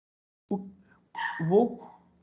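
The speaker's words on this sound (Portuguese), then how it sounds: "Voltou a latir." A dog barks two or three times indoors during a university lecture on strength of materials, short sharp yelps followed by a longer whining bark, close and fairly loud, with no speech over it.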